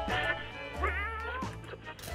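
Cat meowing in the nuclear-survival game 60 Seconds!, plaintive harmonic cries rising and falling over about two seconds, loud and close over a steady low game hum.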